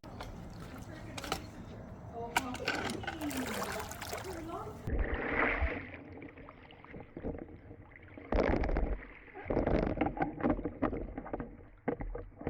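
A Seauto SAT20 robotic pool vacuum works along the walls and corners of a pool, giving a steady churning, sloshing water noise with scraping and splashing bursts, under intermittent talk.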